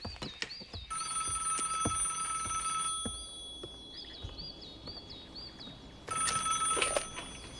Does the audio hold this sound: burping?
no